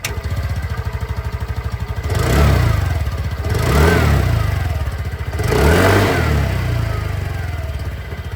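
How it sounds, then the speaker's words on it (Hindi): A Hero Xoom 110 scooter engine runs loud and close, idling with a steady throbbing putter from the exhaust and revved twice in smooth swells before settling back to idle. "एक बार जो एग्जॉस्ट साउंड है वो भी मैं आप लोगों को सुना देता हूँ"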